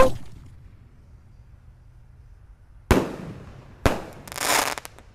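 Roman candle fireworks fired from a double 1.75-inch launcher, giving two sharp loud bursts roughly a second apart, the second trailing into a crackling hiss, after a quiet lead-in with no talk.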